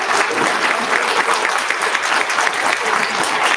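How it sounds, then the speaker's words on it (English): A crowd at an elementary school student recognition ceremony applauds its supporters, a dense, loud, continuous wash of clapping that holds steady throughout with no single claps standing out. "can we have a round of applause for all of our supporters?"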